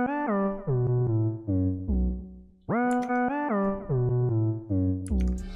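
A soft, smooth lead synth preset from the Expand plugin plays a bright, harmonic melody of sustained notes with gliding steps, loud and upfront with no talking.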